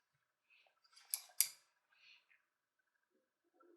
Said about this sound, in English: This pair is a little bit lighter weight and sharper, and it's really good for cutting lightweight and soft leathers like upholstery leathers.